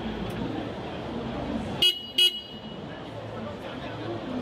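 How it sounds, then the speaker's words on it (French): Two short, sharp toots from the horn of a restored 1968 vehicle at a Paris tourism fair, sounding close and clear above a murmuring indoor crowd. "Vous avez entendu le klaxon? Le kick-kick."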